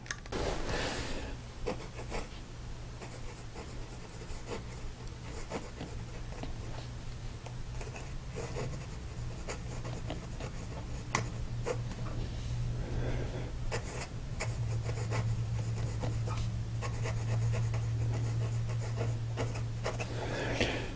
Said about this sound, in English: So let's take a look at the nib on paper.